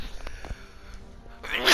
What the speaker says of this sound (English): Let me sneeze